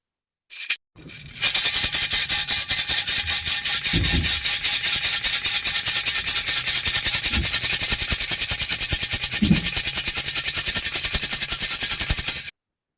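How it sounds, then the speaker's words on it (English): A handheld rattle shaken continuously and close, producing a dense, loud, steady swishing rattle for about eleven seconds after a brief initial shake, with faint low bumps underneath and no talking. "I'm going to shake the rattle and move any stagnation energy."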